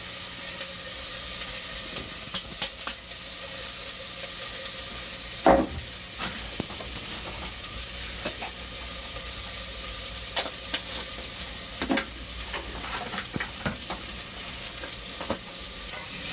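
Onion and garlic frying slowly in a pan for kashk bademjan, a steady soft sizzle with occasional stirring scrapes and clicks throughout, close and alone.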